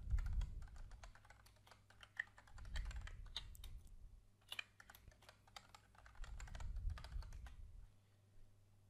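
Fingers typing an email address and password on a computer keyboard, quick bursts of soft clicking keys at close range, broken by brief pauses, over a faint low hum.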